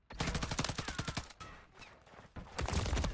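Rapid bursts of automatic gunfire in Call of Duty MW3, fired through walls, crack out loud and close in two volleys separated by a brief lull.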